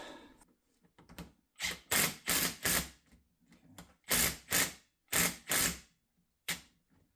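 Nut being spun quickly onto the threaded rod of a car's front spring strut, likely with a ratchet: a run of loud, rapid mechanical bursts, some clustered in threes, separated by short gaps, close up.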